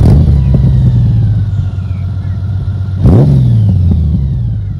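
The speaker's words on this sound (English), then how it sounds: "Let me start it up and you can hear a cold, not a cold start, but warm start." A Honda GoldWing motorcycle engine warm start, idling loud and close with a steady low rumble, then a sharp blip of the throttle that surges and settles back to idle.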